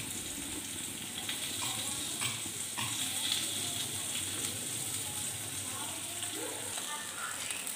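Gang mourala fish fries on a leaf in a pan, a quiet steady sizzle running throughout with faint stirring and scraping sounds now and then.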